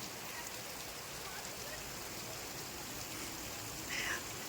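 Heavy rain falling over a village makes a soft, steady hiss that continues without a break, quiet and somewhat distant, with a brief slight swell near the end.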